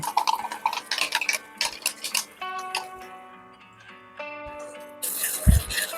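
Chicken gravy is stirred in a pot with a utensil, giving a series of light scraping and clinking strokes, first busy and then quieter, with a sustained tonal hum in the middle and a louder clatter at the end.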